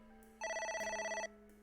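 A telephone in AI: The Somnium Files rings once, a bright electronic trill lasting under a second, clear and alone over a quiet background.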